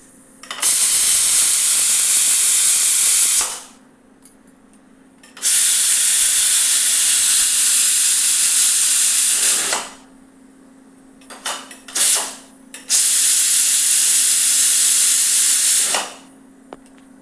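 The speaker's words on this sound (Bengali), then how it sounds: "কুকারে ঠিক একটা সিটি দেওয়াবো" Pressure cooker on a gas stove venting steam, three loud sustained hissing bursts of a few seconds each separated by brief quiet gaps, close by with no talk.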